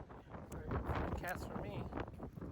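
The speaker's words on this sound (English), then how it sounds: "It's pretty windy today." Strong gusty wind buffets the microphone at a lake shore during a fishing outing, a steady roaring rush with rustling swells, mixed with a voice talking over it.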